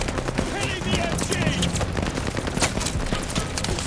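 Dense machine gun fire in the Call of Duty: Vanguard story campaign, sustained rapid bursts loud and close with shouted voices mixed underneath.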